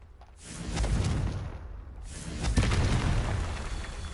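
Two loud booming blasts from the Confringo fire spell in Hogwarts Legacy, each a broad rumbling burst swelling and fading, the second following about two seconds after the first, with no talk.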